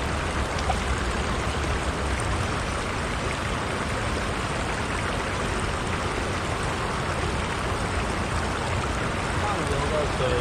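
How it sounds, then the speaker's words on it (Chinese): A steady, dense rush of water flows down a stream from upstream, continuous and fairly loud, with no pauses or changes in level throughout. "上游的水下来了"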